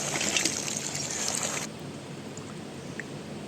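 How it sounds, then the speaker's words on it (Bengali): Catfish are rinsed under a running tap in a basin, a hissing splashing stream of water that stops abruptly partway through, leaving quiet room tone with small drips. "কলের জলে একদম পরিষ্কার করে আমি মাছগুলোকে ধুয়ে নেব।"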